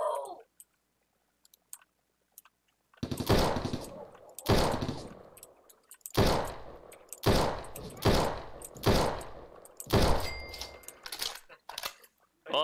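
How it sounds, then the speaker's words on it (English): An AK rifle in the video game Bean Battles fires in repeated loud bursts of roughly a second each, about seven in a row with short gaps between them, after a quiet opening. "that was the AK"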